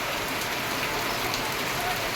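Steady rain falls on a morning with the power out, a dense, even hiss of drops on surfaces close by, unbroken and without talk throughout.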